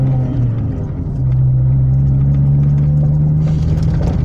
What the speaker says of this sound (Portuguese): Bora reduzir esse caminhão aqui, esse Volvo.